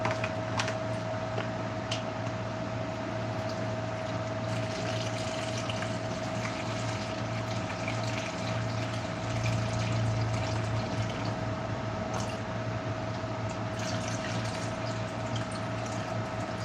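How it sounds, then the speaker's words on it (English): Aloe vera juice and water being poured into a container for soap making with beef tallow, a soft, steady liquid trickle under a constant low hum, no speech. "we're going to go ahead and put the water in there. Again, this is just aloe vera juice and water."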